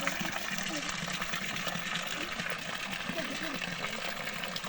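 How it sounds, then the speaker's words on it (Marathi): Water pouring steadily from the mouth of a stone Nandi statue at a temple, a continuous splashing gush close by with a person talking over it. "नंदीच्या तोंडातून पाणी पडत आहे."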